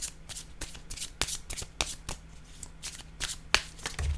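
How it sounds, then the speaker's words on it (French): Tarot cards handled and drawn from a deck in a reading, with a string of crisp paper flicks and slides, close and fairly quiet, in irregular bursts. "Je vais prendre une autre carte."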